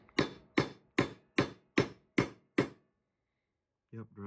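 Seven even hammer blows drive a brake seal into place with the work backed on a 2x4, during brake and rotor replacement on a 2001 GMC 2500HD. The sharp close strikes come at a steady rhythm, then a voice speaks after a pause.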